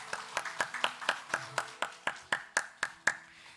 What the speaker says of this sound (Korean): 함께 축복의 박수를 나누겠습니다.